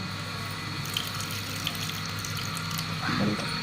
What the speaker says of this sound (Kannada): ಇದು ನೋಡಿರಿ ಫ್ರೆಂಡ್ಸ್ ಎಷ್ಟು ನೀರು ಬರತೈತೆ ನೋಡಿರಿ